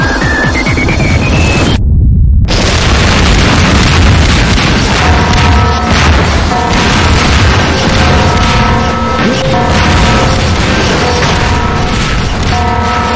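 A torpedo blasts through a spaceship wall in a loud sci-fi explosion: a deep rumbling boom with crackling debris and a brief silent gap, then continuous roaring chaos with alarm-like tones ringing through it.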